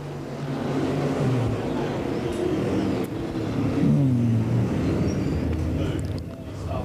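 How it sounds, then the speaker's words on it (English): Dirt late model race cars roar up to speed on the green flag at Golden Isles Speedway, engines blending into a loud, steady drone of multiple cars, with a race announcer talking over the noise. "They're on the gas. Green flag's out."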